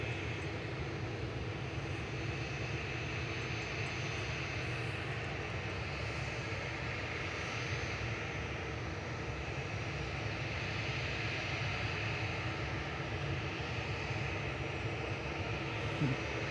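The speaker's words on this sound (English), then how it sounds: "now is the little 737-700 with KLM. Heading back to Amsterdam" A KLM Boeing 737-700 jet airliner at Manchester Airport gives off a steady, distant engine roar with a low rumble, continuous and fairly even throughout, with faint talk at times.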